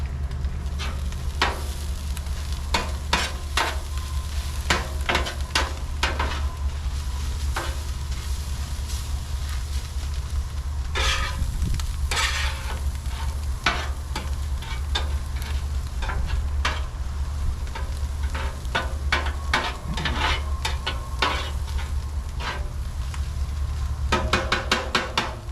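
Onions frying in a pan just turning translucent, a steady close sizzle broken by frequent sharp scrapes and clicks of stirring throughout, with no talking.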